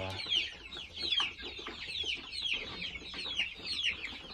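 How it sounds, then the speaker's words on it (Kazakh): Many chicks peeping and chirping in rapid, overlapping high calls, close by and steady throughout, with a low hum underneath. "Міне балапандар."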